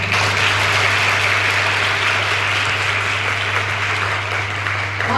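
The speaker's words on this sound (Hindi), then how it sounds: "कला प्रेमी हैं तो तालियों से बताएं" A college audience at a women's postgraduate college applauds during a Kathak dance and tabla workshop, with continuous dense clapping over a steady low electrical hum.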